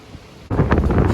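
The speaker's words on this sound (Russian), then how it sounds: "Ветер очень сильный, кур прямо сдувает ветер." Strong gusts beside a backyard chicken coop batter the microphone, starting as a low rumble and then bursting into a loud, rough buffeting roar that continues to the end without any voices.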